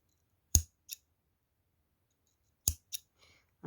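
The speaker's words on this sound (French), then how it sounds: "Je vais couper un peu en biseau." Two sharp snips of scissors cutting jewelry wire at a slant for beaded earrings, each a quick double click separated by a couple of seconds of silence, close and clean, with a faint rustle after the second cut.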